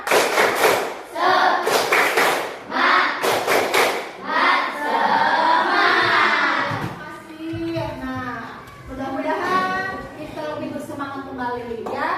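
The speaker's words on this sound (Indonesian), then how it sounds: "Mari kita melakukan tepuk semangat ya" Classroom students doing a rhythmic spirit clap, tepuk semangat: bursts of patterned claps in unison alternating with children's chanting voices, the chant carrying on alone toward the end.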